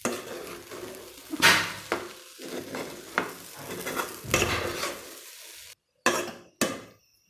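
A spoon scrapes and turns prawn biryani in a cooking pot, giving several close scraping strokes with soft sizzling beneath, followed by a brief silence and two sharp clatters like a lid being set down.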